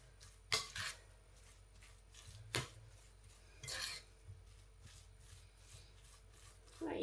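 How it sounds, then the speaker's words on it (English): A spoon stirring mashed potato and tuna in a bowl, quiet scraping and squelching strokes with a few sharper clinks of metal against the dish at irregular intervals, close up with no talk. "Right, so I'm just going to mix this up, guys."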